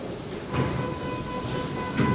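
A Seoul Metro Line 9 express train pulls into a station with a steady, loud rumble of wheels on rails and a faint metallic hum, with no voices.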